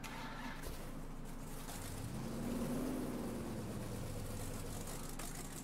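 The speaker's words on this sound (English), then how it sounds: "This truck sounds amazing." A truck engine in the off-road driving game Spintires idles quietly, then swells briefly into a low, rising rev before settling back to a steady mid-pitched hum, with no voices.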